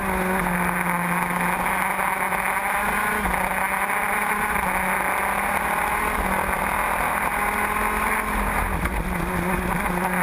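A pack of 125 racing karts drives on track at a spring nationals race, a dense, continuous high-pitched engine whine from several nearby karts with little change in level throughout.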